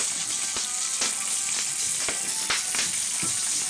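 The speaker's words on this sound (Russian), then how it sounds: "лепешки жарятся, как в духовке, но при этом они на открытом огне" Flatbreads frying in a cast-iron pot over an open fire, a loud, steady sizzle with occasional sharp crackles and pops throughout.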